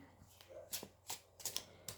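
Tarot cards riffle and slap together in several quick shuffling bursts, crisp and close, with soft pauses between them and a faint voice in the background.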